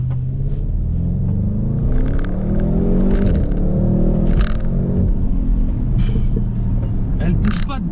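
An Audi RS6 (2020 model) accelerates hard, its engine a loud, close, continuous rumble with rising and falling pitch sweeps as it pulls through the revs, heard from inside the cabin.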